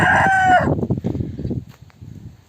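A rooster crows loudly up close inside a chicken coop, one long harsh call, followed by softer clucking and rustling from nearby hens.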